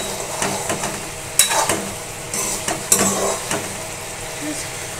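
Aloo posto, potatoes in poppy seed paste with a little sugar and broken green chillies, simmers and bubbles in a pan with a steady sizzling hiss, broken by a few louder scraping stirs and clatters.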